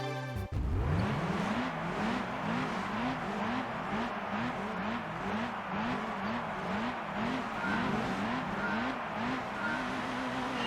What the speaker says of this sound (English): let's see what this Miata can do in a field of convertibles